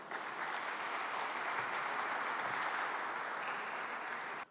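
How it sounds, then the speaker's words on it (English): A large conference audience at an inaugural session applauds after a speech, a steady, even roar of clapping held for several seconds before stopping sharply. "Can we have a huge round of applause one more time, ladies and gentlemen, as we thank Dr. S. Jaishankar."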